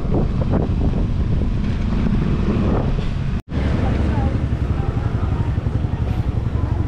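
A small outboard boat motor runs steadily on a bangka out on choppy sea, a continuous rumbling drone mixed with wind buffeting the microphone and a brief dropout midway.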